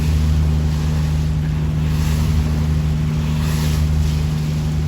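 A deep, steady engine rumble of the ocean liner Queen Mary 2 runs under rushing water and wind noise on the open ocean, with a couple of louder surges of churning water.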